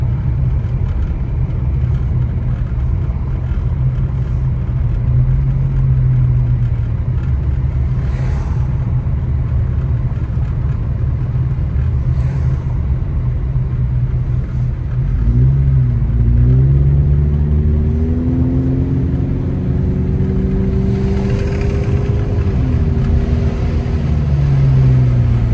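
Steady car engine rumble and road noise while driving along a snowy mountain road through Bear Valley, continuous and close throughout, with a brief rise in engine tone midway.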